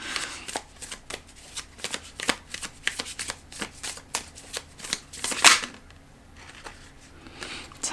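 Tarot cards are shuffled close by, a run of quick, crisp riffling snaps and flutters in an irregular rhythm, with one louder burst near the end.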